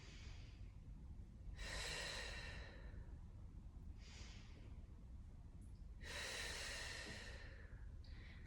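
Slow, deep breaths during an abdominal exercise routine, with long airy inhales and exhales about every two seconds. They are quiet and close, with no talking.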